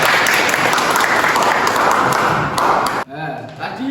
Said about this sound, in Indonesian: Bagus Mas Rojak, beri tepuk tangan dulu Mas Rojak.